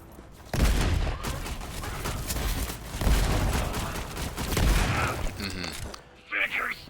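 Rapid gunfire and blasts from a Borderlands 3 firefight sound dense and loud, and a voice talks over the shooting.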